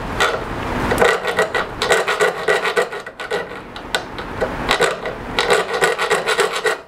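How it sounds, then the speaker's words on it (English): Small Harbor Freight hacksaw cutting parts for a homemade DTG printer, a steady back-and-forth rasping of rapid, closely spaced strokes, close and fairly loud, with no talking. "I'm using my little Harbor Freight hacksaw here"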